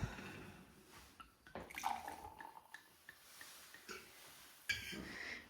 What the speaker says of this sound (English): Good old bottle of fizz. Who's pouring it?